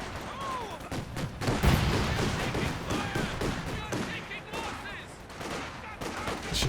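Machine gun bursts and scattered gunfire crackle through a Company of Heroes 2 battle, with rapid rattling volleys and heavier booms coming close together over a few seconds amid busy battlefield noise.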